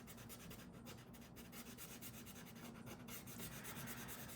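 An acrylic marker scrubs back and forth across a Strathmore 400 watercolor sketchbook page, a soft, continuous close rubbing with faint rhythmic strokes at low volume.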